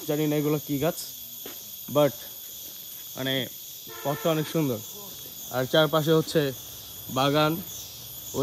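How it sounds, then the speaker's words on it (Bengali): Crickets chirp in Lawachara forest in Sreemangal, a steady high, thin buzz running the whole time beneath a person talking while walking along a tree-lined path. "রাত না হতেই ঝিঝি পোকার ডাক শোনা যাচ্ছে।"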